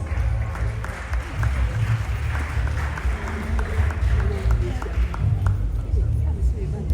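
A crowd applauds to welcome Nana Konadu Agyemang Rawlings at a royals gathering. The clapping is steady and moderately distant, with crowd murmur mixed in.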